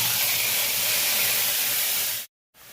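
Ginger, tomato and green chilli paste sizzles in a hot pan as a loud, steady, close hiss that cuts off abruptly near the end, then faintly resumes.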